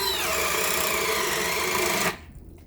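A Hitachi drill running in high gear bores with a 1-inch bit, making a loud, steady motor whine for about two seconds before it cuts off abruptly into near quiet.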